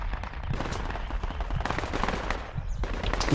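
Gunfire in a jungle firefight in Project Reality, rapid overlapping rifle and machine-gun shots at mid distance, continuous and loud through the whole short stretch.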